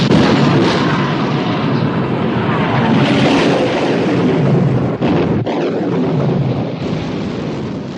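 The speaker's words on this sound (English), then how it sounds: "Open fire, Captain." Heavy naval guns from a 1960 war film about the Bismarck boom in a dense, roaring barrage with rumbling blasts and a sharp crack near the middle, loud and continuous throughout.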